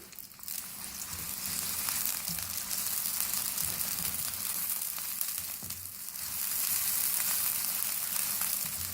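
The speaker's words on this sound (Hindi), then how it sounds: "अब उसको हल्का सा फ्राई करेंगे" Finely chopped medium onion frying in hot oil in a kadai for an achari mutton curry, a steady close crackling sizzle that runs throughout and swells louder near the end, with no voices.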